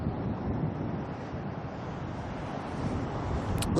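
Wind blowing outdoors at Auckland Airport, a steady loud rushing roar with microphone buffeting that fills the whole stretch without a break and no talk over it.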